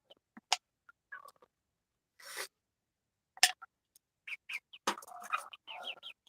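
Backyard chickens in a coop make scattered, irregular clucks and squawks, some sharp and close, with quiet gaps between bursts and a busier cluster near the end.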